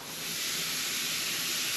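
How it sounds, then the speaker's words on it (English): Steady loud sizzling hiss, bright and close, of a ribeye steak searing on a barbecue grill at medium heat, swelling in quickly and then holding constant. "Oh, the sizzle!"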